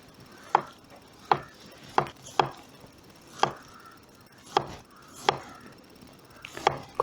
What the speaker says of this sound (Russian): Капусту стараемся шинковать мелко-мелко